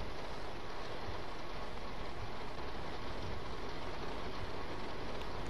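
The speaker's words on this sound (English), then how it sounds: "The rain kills the train sound." Train running in heavy rain in the Train Sim World 2 video game on a German high-speed line, a dense, steady hiss of rain that mostly masks a low, continuous rumble of the train.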